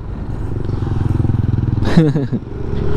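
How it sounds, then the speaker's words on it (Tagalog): A motorcycle ridden by a learner on a street in Solano, Nueva Vizcaya rumbles loudly close by, its engine pitch rising and sweeping as it passes. "May nagpa-practice na magmotor"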